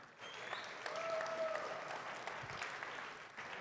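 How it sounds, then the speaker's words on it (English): An audience claps steadily at a veterans boot camp talk, a dense continuous patter of many hands filling the room at fairly low level, with a faint voice briefly heard under it. "I want a round of applause for yourselves."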